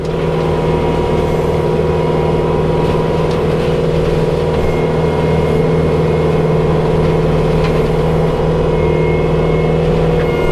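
A Kubota tractor engine runs steadily at a swampy work site, a loud, constant low drone with a firm hum throughout and no voices.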